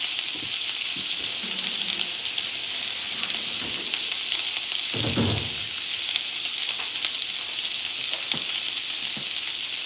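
Shrimp frying in a pan, a steady bright sizzle running throughout, with a brief louder burst of bubbling and a few light clicks of a utensil.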